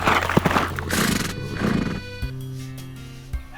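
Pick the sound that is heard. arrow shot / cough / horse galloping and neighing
horse galloping and neighing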